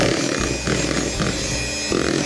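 An electric mixer runs at fairly high speed, beating cake batter with eggs in a bowl, giving a loud, steady, close whirring buzz with rhythmic scraping of the beaters.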